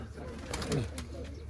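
Domestic pigeons, including white fancy birds, coo in a brief low burbling burst at close range, with a faint murmur of background voices.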